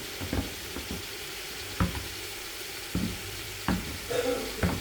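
Food being sautéed in a pan ahead of adding coconut milk, with a soft sizzle broken by several sharp scraping knocks of a utensil stirring, close and fairly clear.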